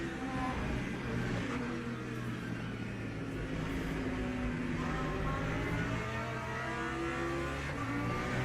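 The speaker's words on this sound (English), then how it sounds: "More LMP2s coming." LMP2 prototype race cars in the Le Mans Ultimate racing game drone past as a continuous mix of engine roar and revving, moderately loud and sustained with no clear break.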